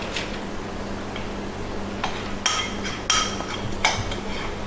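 Chocolate being scraped for peppermint chocolate bark, heard as a handful of sharp, separate clunks and clicks against a kitchen surface over a quiet, steady background hum.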